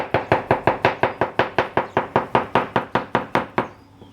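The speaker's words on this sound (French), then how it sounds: "Et là, nous allons la couper en rondelles aussi." A knife slices a banana into rounds on a board, giving about seventeen crisp, evenly spaced knocks in a quick steady rhythm, each one close and clear. A brief quiet tail follows, with no talking.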